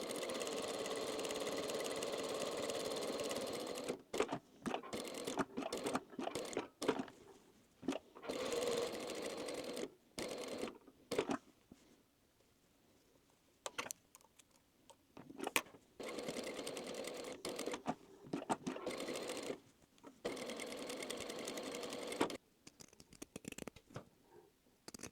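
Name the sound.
sewing machine stitching plush cherry halves together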